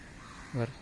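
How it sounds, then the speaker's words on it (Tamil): A single crow caw, harsh and nasal, rings out briefly over a quiet outdoor background. "ஒரு காக்கா எதையோ கொண்டாந்து கட்சி கட்சி சாப்பிடுது"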